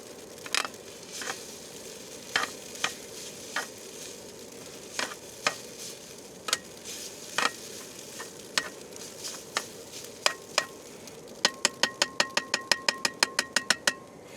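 Food stirred in a pan over a faint, steady sizzle, punctuated by sharp, scattered scrapes and taps that turn into a quick, regular run of clicks toward the end.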